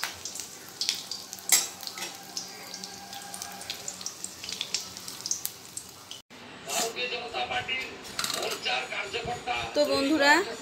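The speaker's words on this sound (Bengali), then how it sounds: "ছেলের জন্য দুটো মাছ ভেজে নিচ্ছি প্রথমে" Rohu fish pieces fry in hot oil in a pan, giving a close crackling sizzle with scattered pops and clinks of utensils, while a voice talks over part of it.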